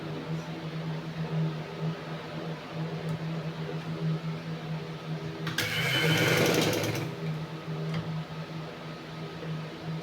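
Sewing machine stitching a shalwar, a steady close mechanical hum with a louder, busier burst of rapid stitching in the middle.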